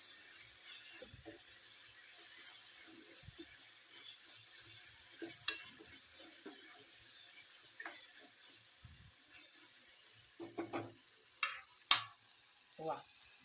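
Fresh coriander leaves frying in hot oil for a cowpea pod curry, a faint steady sizzle with scattered stirring clicks and scrapes that grow sharper and louder near the end.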